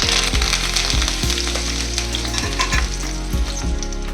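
Curry leaves sizzling and frying in hot oil on a low flame, a steady dense crackle with occasional louder pops and stirring knocks, close up and with no talking.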